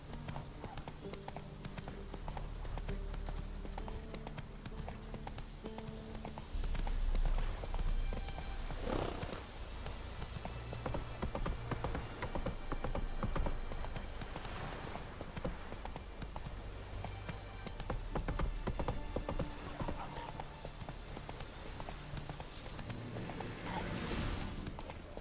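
Roach the horse's hooves clip-clopping in The Witcher 3: Wild Hunt, a steady rhythmic trot close by that carries on throughout, with an occasional whinny and faint game sounds beneath.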